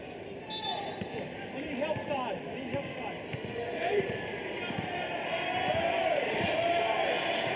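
Crowd murmur in a college basketball arena during an Arizona versus Chico State game, with a ball bouncing on the hardwood and shoes squeaking, the noise building gradually under close commentary.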